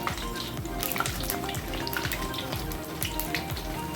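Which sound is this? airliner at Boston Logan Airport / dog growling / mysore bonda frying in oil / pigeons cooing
mysore bonda frying in oil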